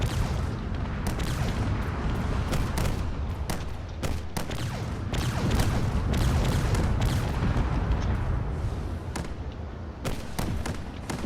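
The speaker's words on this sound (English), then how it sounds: "There are missiles coming from literally all directions." Missile blasts and weapons fire in the game Drone Wars, a steady barrage of sharp booms and bursts coming thick and fast over a continuous rumbling background.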